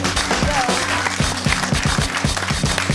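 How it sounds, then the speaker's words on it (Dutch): A TV studio audience breaks into steady applause at a Frisian entertainment show while a rhythmic music backing plays loudly underneath throughout. "Applaus, dames en heren."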